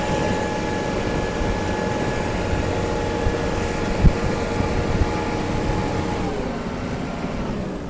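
Kubota GT8 (Hinomoto NZ260) Japanese mini tractor engine runs steadily while driving in higher gears, a continuous mid-pitched drone with a faint whine, one brief knock partway through, no voices.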